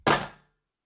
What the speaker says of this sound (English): I heard a thud.